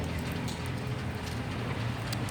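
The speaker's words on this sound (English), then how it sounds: "it's raining" Rain falls steadily outside, a dense even hiss of drops on surfaces with no voices over it.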